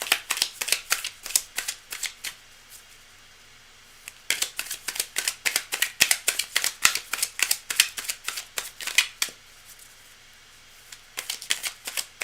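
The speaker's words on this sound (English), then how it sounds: "I'm going to keep shuffling for a little bit more." Tarot cards being shuffled close by in quick bursts of crisp riffling and flicking, pausing briefly a couple of times before starting again, with no voices.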